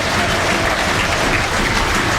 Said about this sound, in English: Gets a decent applause here